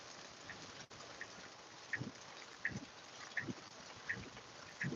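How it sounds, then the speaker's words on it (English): Steady heavy rain falls in North Carolina, a constant hiss of drops with a duck quacking repeatedly at a regular pace over it. "it's been raining hard for several hours now"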